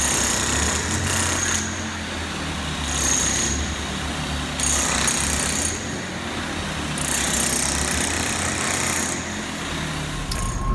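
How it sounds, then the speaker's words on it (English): A Bosch demolition hammer breaks up concrete around a cast iron catch basin frame, hammering in a steady, loud, continuous rattle with a few short pauses between bursts. "We brought in the Demolition Hammer, the Bosch, so we're gonna break this up in order to remove the concrete around the catch basin."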